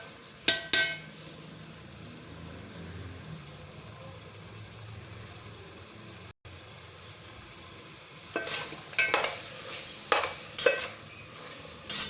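Minced chicken jalfrezi with capsicum stir-fries in a pan, giving a soft, steady sizzle with scattered louder scraping and stirring clatters near the end.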